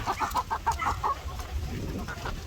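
Black Australorp crossed with White Leghorn chickens cluck in a quick series of short, close calls, then fade into quieter background murmuring from the flock.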